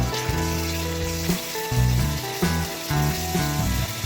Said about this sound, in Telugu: తరువాత కరివేపాకు, 2 స్పూన్ల అల్లం వెల్లుల్లి పేస్టు వేసి వేపాలి.